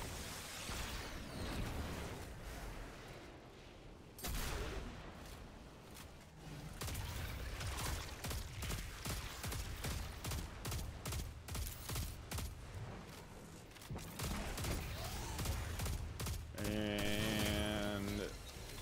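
Dense automatic gunfire in the Destiny 2 Lake of Shadows strike, sustained close, heavy volleys with brief pauses, mixed with game effects and a voice talking throughout.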